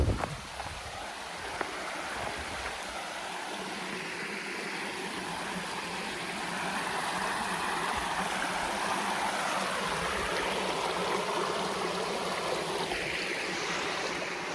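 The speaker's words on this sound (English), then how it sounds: "As soon as I heard the water, I was like, I gotta come find it." Natural stream or fountain flowing outdoors, a dense continuous rush of water close by, swelling slightly partway through and holding steady throughout.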